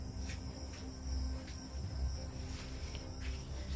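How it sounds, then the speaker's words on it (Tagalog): Crickets chirp steadily in a quiet outdoor night setting around a hut, a continuous high trill with soft pulses and no voices. "puro kuliglig yung naririnig natin"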